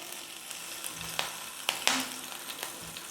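Grated ginger and chopped green chillies fry in oil, giving a faint steady sizzle with a few brief utensil taps.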